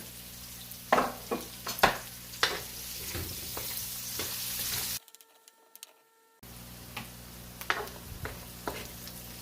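Onion and garlic fry in a pan for pancit palabok, a soft steady sizzle broken by sharp scrapes of a stirring spoon, with a brief near-silent gap midway.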